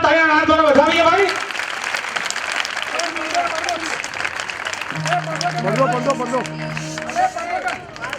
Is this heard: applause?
yes